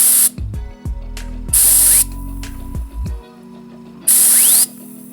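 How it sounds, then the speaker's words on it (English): Compressed air hisses in loud bursts as it spins a Suzuki GSXR Factory Pro slick shift kit shifting star, with fast whirring and ratchet-like clicking between the blasts; three strong air bursts alone, no talk. "I can show you how super quick and how smoothly this actually spins by using compressed air"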